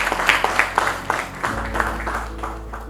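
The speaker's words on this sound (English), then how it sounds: "This definitely deserves a round of applause." Applause from a conference audience at a primary health care policy dialogue, steady scattered clapping from a moderate-sized crowd, moderately loud and unbroken by talk, fading slightly toward the end.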